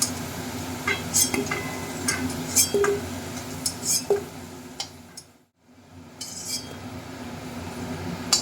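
Fried potatoes are lifted out of a pan of oil with a metal utensil, giving a series of light clinks and scrapes against the pan over a low sizzle, with a voice talking throughout and a brief lull near the end.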